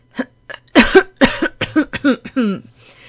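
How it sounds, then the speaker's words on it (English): A man clears his throat several times in quick, uneven bursts, close and fairly loud, with short pauses between. "He cleared his throat again."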